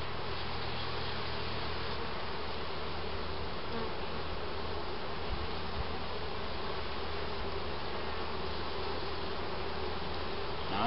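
Dense, steady hum of many honey bees swarming over frames in an open hive, loud and close throughout with no talk.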